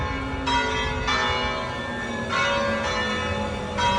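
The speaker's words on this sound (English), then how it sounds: "And there they are, the evening bells," Evening church bells of Verona's main cathedral ring at six o'clock, several heavy strikes overlapping in a steady slow rhythm, their rich tones sustaining and blending across town, moderately distant with no voices.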